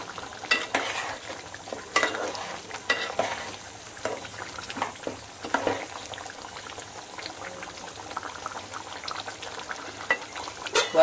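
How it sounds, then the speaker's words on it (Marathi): A spoon stirs mutton curry with salt in a pot, giving repeated wet scraping and clinking sounds over a soft bubbling simmer, close and moderately loud with no talking. "चांगला घाटलून घ्यायचं आहे. मीठ पूर्ण एकदम मिक्स झालं पाहिजे."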